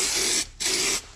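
Paint remover sprayed onto a Yamaha RD50 motorcycle wheel in two short, loud, close bursts from an aerosol can, separated by a brief pause.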